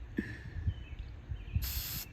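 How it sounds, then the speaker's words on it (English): Spray paint hisses onto a painting in one short, bright burst near the end, preceded by soft low thumps and handling noise. "Spray it on your fingers, flick onto there."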